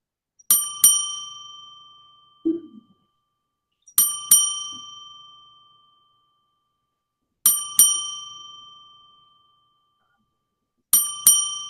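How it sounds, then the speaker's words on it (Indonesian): A POS app's new-order notification chime sounds four times at regular intervals, each a bright double ding with a ringing tail, loud and clear in an otherwise quiet setting, with one faint soft noise between the first two. "Sorry, jadi nanti di postnya akan ada notifikasi suara."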